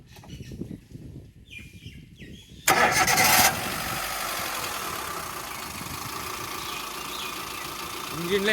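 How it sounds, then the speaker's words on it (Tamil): A Hyundai Santro car engine cranks and catches with a sudden loud burst, then settles into a steady idle hum; a voice speaks briefly before the start. "அடுத்து இந்த வண்டியை ஸ்டார்ட் பண்ணுறேங்க."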